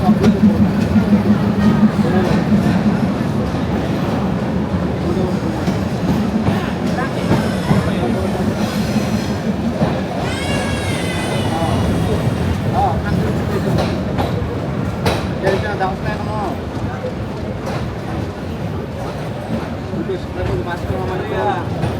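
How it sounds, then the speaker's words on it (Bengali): A local train stands at a station, bound for Panchagarh, its steady low engine rumble and rail noise running throughout, with voices talking over it and a brief higher whine partway through. "এই যে লোকাল ট্রেন দাঁড়িয়ে আছে"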